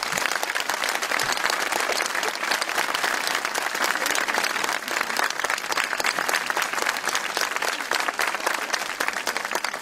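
Theatre audience at a staged mock trial during the Accroche-coeurs 2012 festival applauding to welcome an expert, a dense, sustained round of clapping from a large crowd that holds steady for nearly ten seconds.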